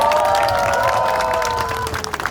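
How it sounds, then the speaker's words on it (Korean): A crowd at an evening outdoor political campaign rally applauds and cheers, a loud, continuous wash of clapping with sustained raised voices running through it and a few sharper claps as it thins out. "격려와 감사의 박수 한번 보내주시기 바랍니다"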